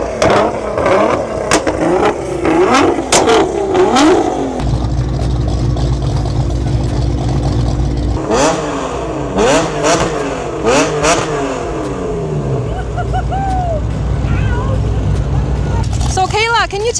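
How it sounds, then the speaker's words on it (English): Cars leaving the SEMA show in Las Vegas rev their engines in repeated loud, close bursts over a steady idling rumble, while people talk nearby. "we're just out here watching other cars leaving SEMA"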